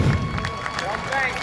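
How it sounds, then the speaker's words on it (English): Crowd applause in the grandstand at a speedway, a broad spread of clapping with scattered sharper hand claps over a low rumble, with voices faintly underneath. "How about a big round of applause for Carson Downing?"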